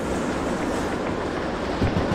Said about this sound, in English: holding the train in check with the brake as we head downhill.